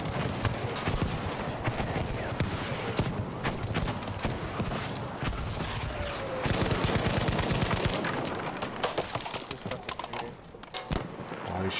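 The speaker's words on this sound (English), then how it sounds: "Oh, he's shooting at me." Sustained rapid gunfire from a Battlefield V shooter match, dense bursts and volleys running throughout at close range with brief shifts in intensity and no talk.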